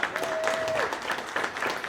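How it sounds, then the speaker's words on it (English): Audience applause for a speaker being introduced at a brand-launch talk, steady dense clapping throughout, with a brief tonal whistle-like sound partway and some voices mixed in. "Everybody, round of applause for Alex."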